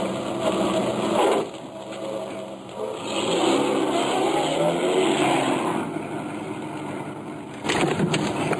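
A car engine hums and rumbles steadily at moderate volume, with a slight rise and fall in pitch as it drives along.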